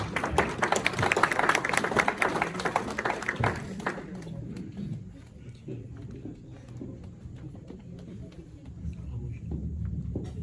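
An audience at a mushaira poetry gathering hosted by a Pakistani American society applauds to welcome a poet, a dense burst of clapping that fades after about four seconds into softer scattered taps and room noise.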